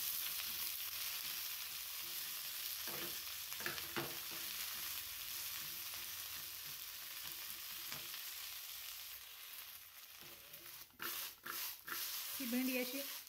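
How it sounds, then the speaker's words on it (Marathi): Sliced okra fries in a spoonful of ghee in a pan, giving a soft continuous sizzle with occasional stirring scrapes, and a voice talks briefly near the end. "ही भेंडी अशी मस्त अशी फ्राय करून घ्यायची"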